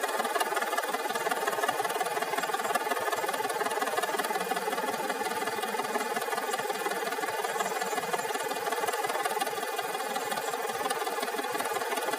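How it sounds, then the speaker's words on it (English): Sewing machine stitching down the turned-over ruffle hems on a sundress, a continuous close whirring drone that keeps an even speed from start to finish with no talking. "then I'll take it to the machine and I'll stitch them down"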